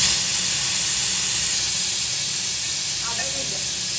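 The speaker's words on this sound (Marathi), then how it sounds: "कुकर तुला शिट्टी मारते" A pressure cooker vents steam while chicken biryani cooks, giving a loud, continuous, even hiss that runs for several seconds without a break.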